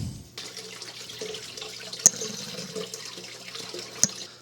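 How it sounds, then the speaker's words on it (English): Water from a siphon hose streams steadily into an aquarium lily pipe in a planted tank, a continuous soft gurgling flow with two sharper splashy clicks. "I like to shoot the water right into the lily pipe"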